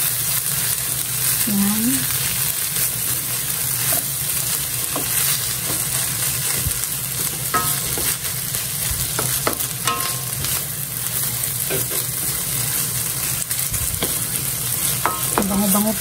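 Corned beef fries and is stirred in a pan for Japanese fried rice, a steady sizzle broken by scraping spatula strokes, with a brief spoken word near the start.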